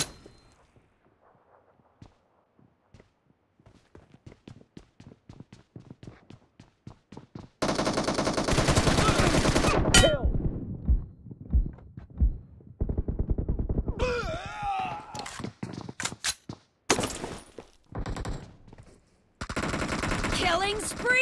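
Automatic gunfire in BGMI team deathmatch on Erangel: faint rapid ticks at first, then loud sustained bursts of rifle fire with gaps, game announcer voice and effects mixed in.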